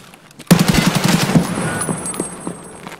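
Video game gunfire opens abruptly after a short quiet moment, then runs as loud, rapid automatic bursts and shots that gradually fade with a lingering ringing tail.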